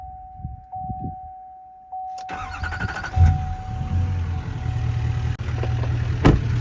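Chevy Duramax diesel pickup truck being started with the key: a steady electronic chime and quiet clicks, then the starter cranks and the engine catches with a loud surge before settling into a rumbling run.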